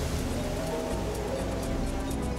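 Steady, dense hiss of freezing rain falling hard at sea, with a broad wash of noise from waves; constant and loud throughout, no voices.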